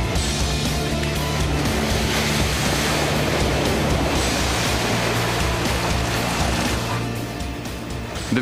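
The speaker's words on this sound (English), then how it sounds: "VW is surprisingly good at water crossings." A Volkswagen Touareg SUV churns steadily through a water crossing, a loud continuous rushing splash with engine rumble underneath, sustained throughout.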